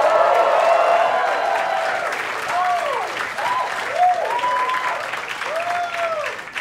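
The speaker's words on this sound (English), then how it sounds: "You're clapping" Comedy special audience clapping and cheering, a broad roar of applause with whoops rising over it; someone speaks over the crowd as the clapping slowly fades.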